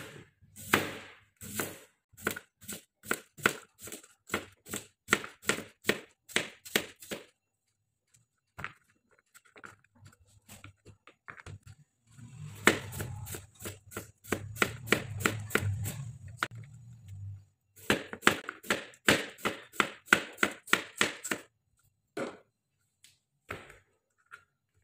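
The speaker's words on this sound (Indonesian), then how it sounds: "Semuanya kita hiris seperti ini." A knife slices cucumber and other vegetables on a cutting board for an herbal drink, crisp evenly spaced chops in long runs broken by short pauses and a stretch of rustling handling.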